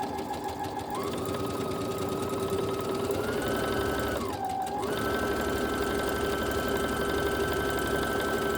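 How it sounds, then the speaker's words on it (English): Sewing machine running steadily while stitching a quilt block seam guided by a J presser foot; a continuous close mechanical hum whose pitch dips briefly midway, with no talking. "First row of stitching, I'm going to use the edge of my J foot to just follow my seam all the way down."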